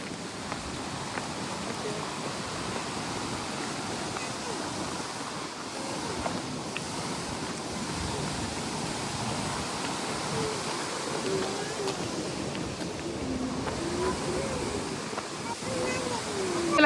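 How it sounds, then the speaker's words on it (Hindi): A fast-flowing, clear spring-fed stream near a waterfall at Blue Spring, New Zealand, gives a steady, fairly close rushing hiss that carries evenly throughout, with no clear breaks. "जैसे जैसे हम आगे बढ़ते जा रहे हैं पानी का फ्लो उतना तेज होता जा रहा है।"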